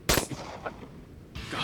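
Deer hunting rifle fired once on a prairie hunt, a single loud, sharp crack that rolls off into a short echoing tail, with another burst of noise arriving at the very end.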